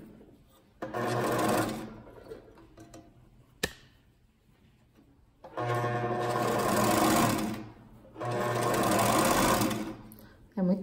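An overlock machine serges the small sleeve of a child's dress in three loud, close runs of several seconds each, separated by quiet pauses and a sharp click as the fabric is turned.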